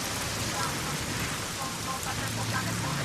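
Steady rain falling, a dense even hiss of drops that holds without a break for a few seconds, with no voices over it.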